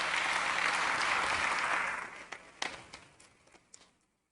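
Warm applause from an audience at a formal government session in Mexico, dense clapping that fades out over a couple of seconds into a few scattered last claps before silence.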